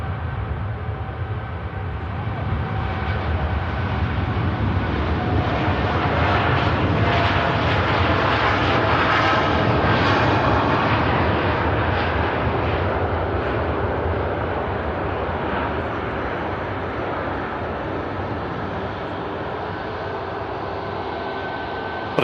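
Qatar Airways airliner rolling for takeoff at Manchester Airport, heard from a spotting position as a loud, sustained jet engine roar that swells and builds, then eases slightly as the aircraft moves away.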